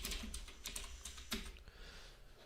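Rapid keystrokes clatter on a computer keyboard in bursts of quick, uneven clicks, close and fairly loud with no voices.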